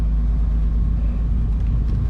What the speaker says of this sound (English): Then it's asking us to start the car